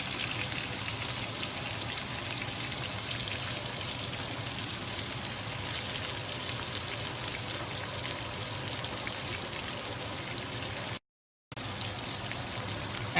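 Onions sizzle steadily in a frying pan for chicken gravy, giving a dense, even hiss that holds at a constant level, with a brief silent gap near the end and no speech.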